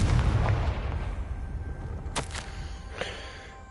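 A Confringo spell blast in the Hogwarts Legacy video game hits with a deep rumbling boom that fades out, followed by a couple of sharp crackling bursts, moderately loud against game ambience.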